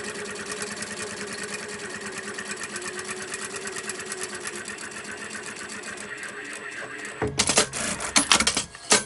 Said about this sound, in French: Et je viens mettre une petite couture de sécurité.